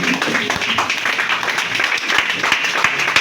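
A church congregation applauds together after a Bible reading, a steady wash of many hands clapping close and loud, with sharp individual claps standing out through the whole stretch.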